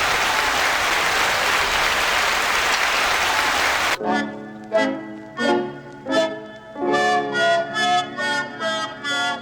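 A run of separate hand claps, loud and close, rhythmic and slightly uneven, following several seconds of noisy, crowd-like applause.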